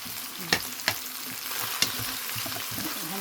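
Pork steak with onions fries in a pan under a dense, continuous sizzle, with three sharp utensil knocks early on and softer scraping of stirring toward the end.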